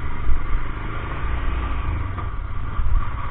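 A Royal Enfield Himalayan motorcycle rides along with a low, steady engine thrum and small surges in throttle, heard up close with no talking over it.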